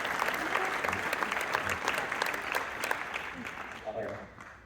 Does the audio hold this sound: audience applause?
yes